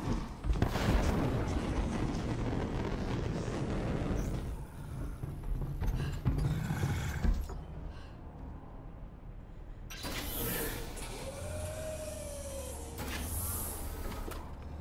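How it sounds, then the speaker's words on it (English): Elevator ride in an Iron Man action video game, a low rumbling mechanical drone with heavy clanks and shuddering impacts, then a quieter stretch before the hum returns. "Long elevator ride coming up."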